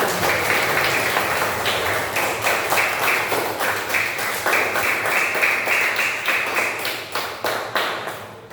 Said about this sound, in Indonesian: kita semua tepuk tangan sebagai apresiasi